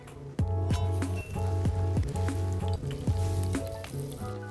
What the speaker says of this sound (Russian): Сначала мы на этой сковороде обжариваем грибы, чтобы на них появился колер.